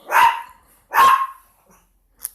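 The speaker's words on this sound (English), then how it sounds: "Sorry about my dogs." Two sharp dog barks about a second apart, loud and close, then quiet with a faint yip at the end.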